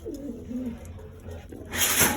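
A pigeon coos softly in low, rolling calls, followed by a brief rustling burst, close by, at a pigeon loft with squabs.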